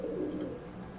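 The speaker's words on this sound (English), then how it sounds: "The pigeons are having a full-on fist fight for this ledge." City pigeons squabbling over an apartment ledge facing an alley, giving a brief, close, low cooing burst.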